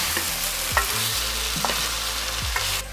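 Fish in spicy garlic sauce stirred in a pan, a steady sizzle running throughout with a few distinct scraping strokes of the spoon against the pan, close and continuous, no voices.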